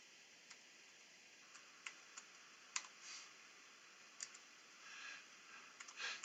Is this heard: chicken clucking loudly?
no